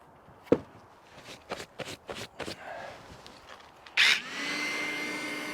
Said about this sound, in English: you can hear the vacuum go off